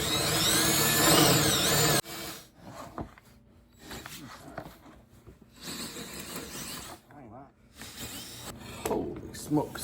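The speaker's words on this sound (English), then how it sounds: "I'm gonna try drilling from this side." A power drill bores into wood while building a custom closet organizer. A loud whirring burst at the start gives way to intermittent drilling bits under a voice.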